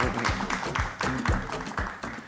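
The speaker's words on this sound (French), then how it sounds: "applaudissez Gic Eco Beauty, s'il vous plaît" A small group claps together in brisk, rhythmic applause, steady and fairly close, lasting a couple of seconds.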